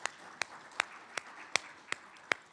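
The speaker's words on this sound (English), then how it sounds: "Please give them a round of applause as well." Slow, sparse hand claps ring out one at a time in a roughly even rhythm at a chamber of commerce lunch, quiet and somewhat distant in a large room.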